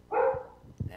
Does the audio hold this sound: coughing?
no